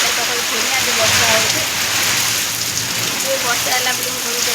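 Steady rain pours down near a new house, a dense, continuous patter on surfaces close by, with a faint voice murmuring underneath.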